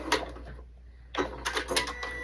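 A home sewing machine stitches and backstitches along the edge of a fabric key fob, a close mechanical whirring in short bursts separated by a brief pause.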